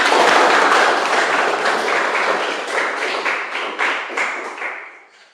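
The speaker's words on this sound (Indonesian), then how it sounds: "Kita tepuk tangan dulu." Classroom applause from students after group presentations, a dense wash of hand clapping that starts full and gradually thins and fades over about five seconds, with a few louder individual claps standing out near the end.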